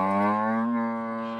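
A single cow gives a long, deep, steady moo up close on a small farm by the Zambezi, alone without talk.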